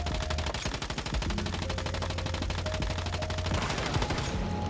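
An MPS5 Kumawink submachine gun with bounce shots fires in Once Human, a rapid, steady stream of shots in sustained bursts, loud and close, with a brief gap near the start.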